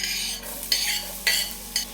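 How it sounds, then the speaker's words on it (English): Shallots and garlic sizzle and stir-fry in smoking-hot sesame oil, a steady loud hiss broken by several regular scrapes and tosses of the pan, with no voices. "And we'll just stir fry this for about 2 minutes."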